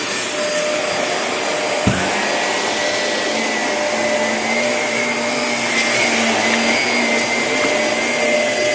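A Shark Navigator upright vacuum cleaner runs steadily in a church, a loud continuous motor whine and airflow roar with a brief thump near the start, no voices.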